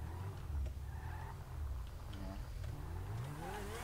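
A car drifting in GTA V Online, engine revving with a sustained tyre-skid hiss and rising pitch sweeps, close and steady, with a voice talking over it.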